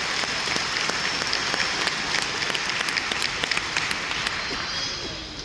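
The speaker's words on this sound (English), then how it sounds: "You guys give them a round of applause." A crowd at a high school graduation claps steadily and loudly throughout, a dense, sustained round of applause with no pauses.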